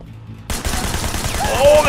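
Rapid automatic machine gun fire in the action video game Sleeping Dogs bursts in after a short quiet lead-in, with loud, dense rhythmic shots continuing to the end and a voice faintly underneath.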